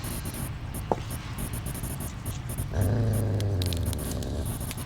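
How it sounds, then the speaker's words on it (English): A dog growls behind a closed door in the PC game A Wolf in Autumn. The growl is low, steady and muffled, and it rises after a faint click partway through. It sits over a droning, hissing ambient background, and no one speaks. "Is there a dog locked up in there?"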